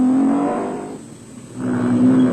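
Castrol Toyota Hilux 2.7i off-road race truck engine at an off-road race at Carnival City, South Africa, droning loudly with a steady tone, dipping and fading midway, then swelling back up as it revs again.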